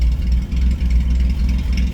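Ford Granada engine, carburetted, running steadily at idle with a slightly choppy, low rumbling exhaust note, close and continuous with no talk.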